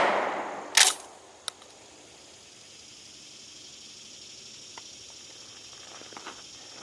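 A single sharp shot from a GForce GF12 pump shotgun cracks out near the start, followed by a smaller click and a long quiet outdoor tail.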